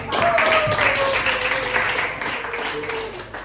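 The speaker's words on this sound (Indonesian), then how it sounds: "tepuk tangan untuk kelompok" A classroom full of students claps steadily for a few seconds, with a voice heard over the applause.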